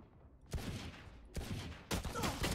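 Gunfire in a shooting video game, with three loud bursts of rapid shots that crack in close and hard, spaced about a second apart, with no voices.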